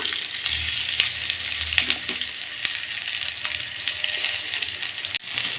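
Shallots and garlic fry in oil in a pan for a South Indian tomato kuzhambu, making a constant close sizzle with occasional light clinks and scrapes of stirring.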